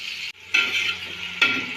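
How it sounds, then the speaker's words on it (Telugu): Onions fry in oil toward golden brown, a loud close sizzle cut by brief pauses as the pan is stirred, each burst hissing back at full strength. "ఉల్లిపాయలు గోల్డెన్ బ్రౌన్ వచ్చిన వరకు వేయించుకోవాలి"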